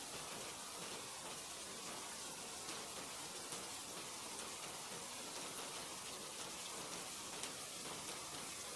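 Steady rain falls in a dense, even hiss of droplets on surfaces, continuous and unbroken throughout with no voices.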